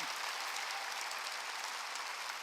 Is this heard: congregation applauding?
yes